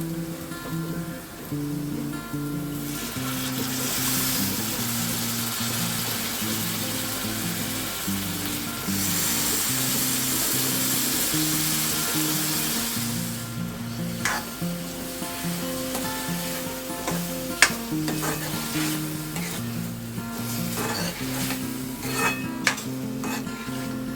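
Oysters frying in masala in a pan with onion, a continuous loud sizzle over soft background music, with occasional scraping and stirring clinks of a utensil against the pan.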